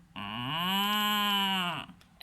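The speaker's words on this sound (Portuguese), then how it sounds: "A vaca faz" A cow gives a single long, steady moo with a rich harmonic tone, close and clear for nearly two seconds, ending with a brief tail-off.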